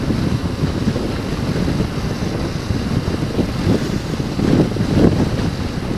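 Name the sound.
wind while riding a motorcycle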